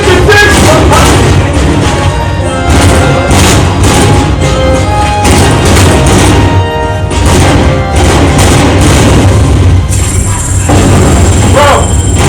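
Loud, rapid, booming gunfire from the RoboCop: Rogue City video game, with repeated blasts and heavy thuds in dense bursts, near and continuous, ending with a high whine.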